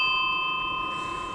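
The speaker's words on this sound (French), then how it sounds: "la sonnette" A bicycle bell, one of a touring cyclist's essential accessories, gives a single clear ring that rings out and slowly fades, heard alone and fairly close.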